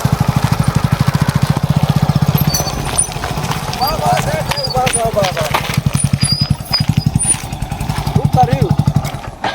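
A motorcycle engine idles with a steady, rapid throbbing pulse close by, while people talk over it.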